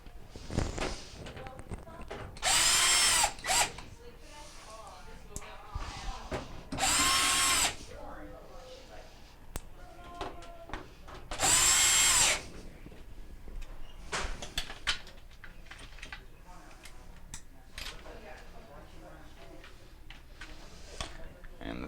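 A power drill backs out 3/4 inch screws from a Maytag washer, three loud whirring bursts spaced a few seconds apart, close by, with quiet handling noises and some talk in between.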